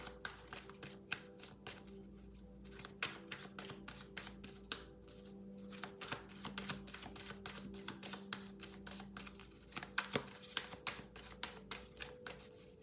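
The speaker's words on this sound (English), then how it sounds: "I'm going to pull out 3 cards." Tarot cards are shuffled and drawn close up, giving rapid papery riffles and flicks in a continuous irregular patter with a soft steady hum underneath and no talking.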